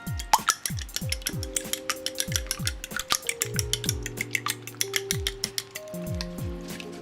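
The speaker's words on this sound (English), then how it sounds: "I'm going to go ahead and whisk all those ingredients together" Eggs and almond milk whisked together in a bowl with a whisk or fork, making a quick, steady run of light clinking taps against the bowl, close and clear with no talking.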